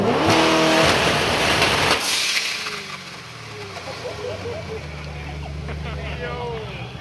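A Fathouse Performance 2022 Shelby GT500 Code Red on launch control lets out a loud, roaring rev burst for about two seconds, then drops to a lower rumble under crowd chatter and voices.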